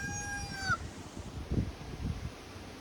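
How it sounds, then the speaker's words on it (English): A rooster crows once at the start, its call rising then falling off, followed by soft low clucking and shuffling from nearby fowl. "There's that rooster and hen right there."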